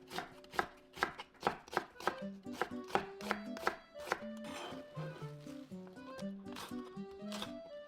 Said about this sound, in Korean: 양파는 반으로 잘라 최대한 가늘게 채 썰어 주세요.